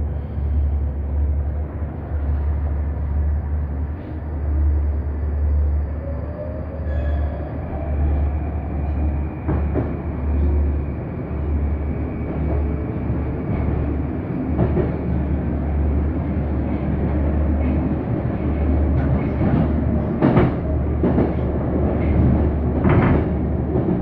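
A Moscow 2020 type 81-775 metro train riding the Circle line, heard from inside the car: a steady low rumble of wheels and motors with rising and falling electric whine, occasional rail clicks and clunks, continuous throughout.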